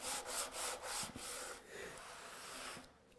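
A piece of wood rubbed back and forth on sandpaper laid flat on a table saw top, giving a rhythmic, close scratchy rasp in several short strokes that trails off near the end.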